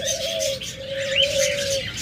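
Caged pet birds, breeding pairs of lovebirds, cockatiels and budgerigars, give a long, steady whistled note with a few quick chirps flicking above it, close and clear with no talking.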